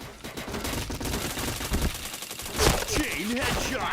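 Rapid automatic gunfire rattles in a shooter video game, dense bursts of shots with game effects, a player's voice talking over it.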